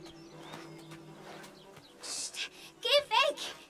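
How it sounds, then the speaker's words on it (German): In Shadow of the Tomb Raider, a bird gives a few quick, bright chirps near the end, over quiet game ambience and a soft murmur. "Oh, Vogel!"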